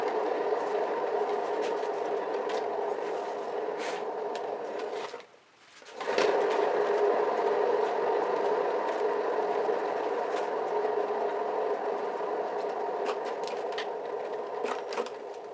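A painting spinner whirls a fluid acrylic painting with a steady mechanical whir and hum, briefly dropping out and restarting partway through, then running on evenly and fairly loud with no voices over it.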